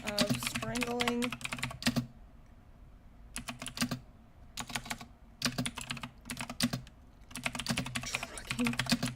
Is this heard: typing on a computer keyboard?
yes